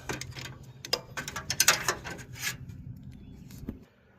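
A ratchet tightens the 8mm bolt on the belt tensioner of a 2007 Honda Civic, giving a close run of quick metallic clicks in uneven bursts that stop abruptly, with a voice speaking briefly.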